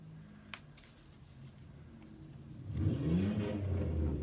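A car engine revs up in a quick rising surge near the end, following a few seconds of quiet low rumble and small handling noises.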